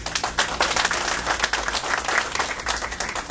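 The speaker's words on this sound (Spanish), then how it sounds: "Diego Rodríguez, un fuerte aplauso para Diego." A small crowd at a press conference in Trujillo applauds Diego Rodríguez with dense, steady clapping close by, lasting the whole time with no talk over it.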